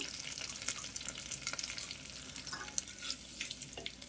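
Garlic and dried red chillies fry in hot oil for pepper rasam, giving a soft, steady crackling sizzle close by with brief spoon scrapes scattered through, and no voices.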